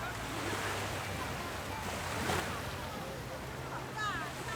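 Ocean waves washing in at the Mumbai seaside, a continuous rushing surf with gusts of wind buffeting the microphone and a brief swell of louder wash midway, with faint voices in the background.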